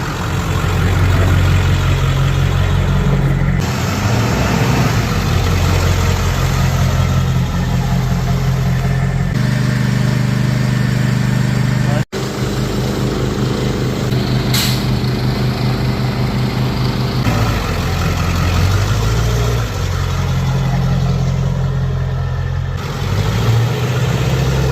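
A forklift or truck engine rolls over a sunken concrete slab at an industrial site, a loud, steady low rumble with slight shifts in pitch and no talking.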